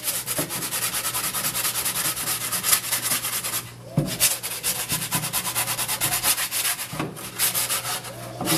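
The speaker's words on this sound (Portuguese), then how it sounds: "Aí você dá uma lixada, valoriza mais a lixa aqui" Sandpaper rubbed rapidly back and forth over a dried gourd being prepared for a berimbau, a steady, close, rasping scratch with a brief pause partway through.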